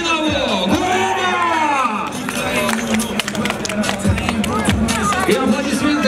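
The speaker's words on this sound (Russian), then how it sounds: "И аплодисменты Артёму Фортунатову, победителю этого боя." Crowd at a combat sports fight event applauding and cheering for the winning fighter, a loud continuous roar of clapping and shouts with an announcer's voice booming over the arena.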